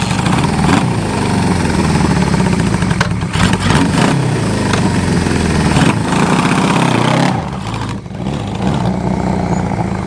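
A 1973 Honda CB500 motorcycle engine with freshly synchronized carburetors runs loud and close, a steady rough drone with brief dips in revs partway through.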